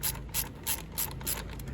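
A ratchet wrench loosens the power steering belt tensioner on a classic Mercedes W126, with five or six quick bursts of close, evenly spaced clicking.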